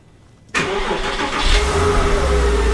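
A Porsche with its door removed sits quiet until its engine cranks and fires abruptly, then settles into a loud, rumbling idle that swells slightly, with no voices.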